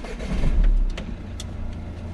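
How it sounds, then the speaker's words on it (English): Car engine starting up during a driving lesson, a brief cranking surge that settles into a steady idle, close by and short. "Let's get the car on."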